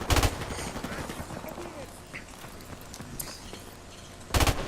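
Rapid bursts of M16 burst rifle fire in Modern Warfare Remastered: a loud cluster of shots at the start, a stretch of quieter game noise with faint distant pops, then another loud burst at the end.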